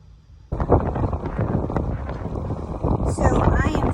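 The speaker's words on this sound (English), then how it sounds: "as you can see, it is very windy here" Wind buffets the microphone outdoors with loud, rumbling gusts that start abruptly and continue, a voice speaking underneath.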